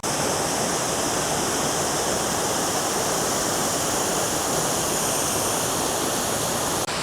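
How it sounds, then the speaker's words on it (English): Steady, full rush of water pouring past a stone bridge and mill leat beneath a viaduct, close and loud as a continuous broadband roar with no pauses and no voices. "Always love the sound of water"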